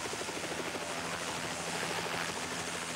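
A helicopter's rotor chops loudly and steadily throughout, a continuous close thumping drone recorded during early test flights in DR Congo.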